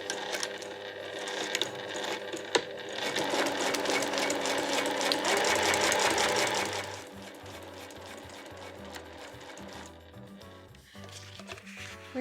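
A sewing machine stitches Liberty cotton and nylon fabric for a small pochette, beginning with a backstitch before running forward in a steady, dense whir that eases to a quieter hum toward the end; no talking.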